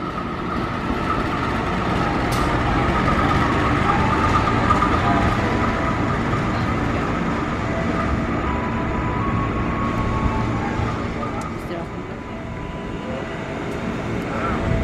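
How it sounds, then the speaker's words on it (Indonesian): The Argo Sindoro, a Jakarta–Semarang executive-class train, passes through a busy Jakarta station at night. A loud, steady rumble of wheels and engine runs throughout, with voices faintly underneath. "ini ada kereta api Argo Sindoro Jakarta Semarang kelas eksekutif"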